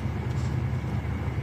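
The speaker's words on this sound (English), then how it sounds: "So you can hear the engine running." A virtual truck engine idles while the truck stands still in a Three.js browser game, a low steady rumbling drone that holds continuous and even with no talk over it.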